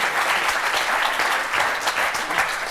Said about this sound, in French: On peut applaudir très fort Sophie et Francis.